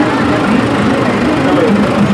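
A vintage 850 tractor with a cultivator on the back, shown at the Shrewsbury steam rally, runs with a loud, steady engine drone close by, a continuous low rumble with no breaks.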